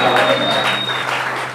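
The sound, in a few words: congregation clapping hands in church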